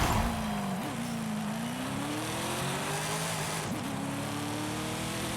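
A 600-horsepower Toyota AT38 V8 racing in Forza Horizon 5, a loud, steady engine drone that climbs in pitch, broken by two brief gear shifts, with no talking.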